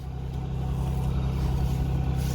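A used Nissan Maxima being driven for a brake test, its engine giving a steady low drone and road rumble from inside the car, with no talking.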